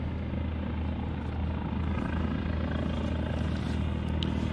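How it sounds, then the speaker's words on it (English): A Northwest Air Ambulance helicopter flies past during a Puma farewell flypast, its rotor and engine a steady, moderately distant drone with a dense low hum that holds without a break. "One of the Northwest Air Ambulance choppers."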